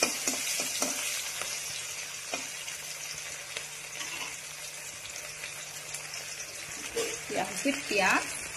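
Onions sizzle as they fry in oil with bay leaves and dried and fresh green chillies, for a pumpkin seed and pangasius fish dish. A steady close-up crackle runs throughout, with a few clinks of stirring near the end.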